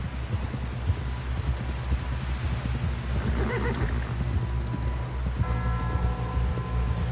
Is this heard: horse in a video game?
yes